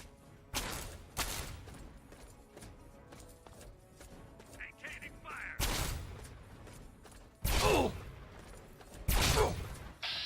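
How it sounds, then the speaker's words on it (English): Laser weapons fire in Fallout 3, with several sharp broadband zaps bursting out at intervals over a low ambient game background, a few louder and closer than others. "who's shooting the lasers at me?"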